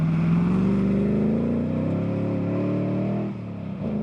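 Bowler Tomcat rally car on a special stage, a loud sustained engine note climbing slightly in pitch and holding steady, easing off near the end.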